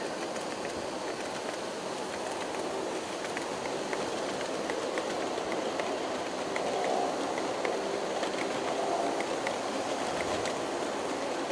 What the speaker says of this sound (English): This is the first train that's run over this 90-degree crossing here